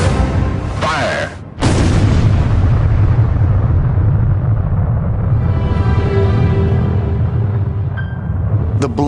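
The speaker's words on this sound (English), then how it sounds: "the first atomic bomb is detonated" The first atomic bomb, detonated at a test site with a yield of 20,000 tons of TNT, sets off a loud booming blast after a brief hush, then a sustained, heavy roar that rumbles on for several seconds.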